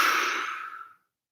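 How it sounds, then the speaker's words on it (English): A single long open-mouth exhale during a clearing breath in a hatha yoga session, a close breathy rush of air that fades out after about a second. "Open mouth, exhale."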